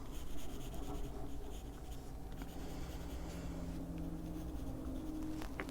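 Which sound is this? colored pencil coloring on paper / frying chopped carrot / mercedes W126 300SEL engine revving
colored pencil coloring on paper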